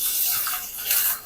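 Water poured from a full tumbler into a pan on the stove while cooking a Telagapindi curry, a steady close splashing pour lasting about a second with no voices.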